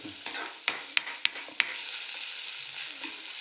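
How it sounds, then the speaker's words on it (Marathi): Masala is stirred and sautéed in a pan for patodi bhaji: a soft, steady sizzle punctuated by four or five sharp spoon clinks and scrapes against the pan, close, with no voices. "चांगलं त्याला परतून घेऊ"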